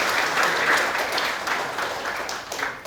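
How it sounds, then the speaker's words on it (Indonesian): A large audience applauds at a grade IX farewell and graduation ceremony at SMP Sapta Andika in Denpasar. The dense clapping starts strong and gradually thins as it carries on. "Kita beri tepuk tangan yang meriah."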